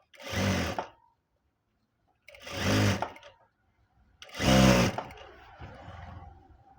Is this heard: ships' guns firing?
no